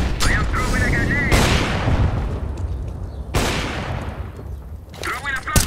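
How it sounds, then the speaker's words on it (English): Explosions and gunfire in the CS:GO video game: several sharp broadband blasts with decaying tails, loud and close, over continuous background game noise and a speaking voice. "I am throwing a grenade."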